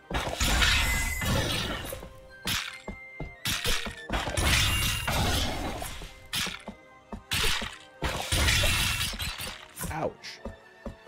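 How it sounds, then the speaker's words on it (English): Glassy shattering bursts from an orb breaking in the video game Cat Quest, several sharp crashes repeating in quick succession, with a player's voice in between. "The orb shatters and disappears."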